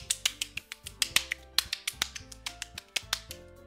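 A quick series of sharp claps, about two dozen in under four seconds, close and crisp with a little ringing tone behind them.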